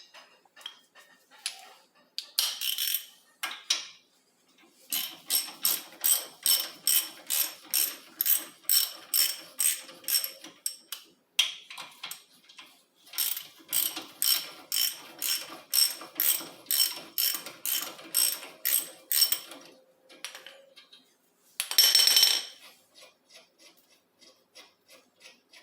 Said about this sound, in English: I'm going to finish that up with the ratchet